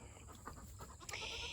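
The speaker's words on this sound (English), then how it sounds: "my dancing goat" A dancing farm goat bleats once near the end, a loud, bright cry over steady outdoor background noise, with faint rustling before it.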